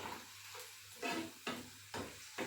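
Green chillies, ginger, garlic and curry leaves sautéing in oil for prawn pickle give a quiet sizzle. Four soft stirring scrapes come at roughly half-second intervals.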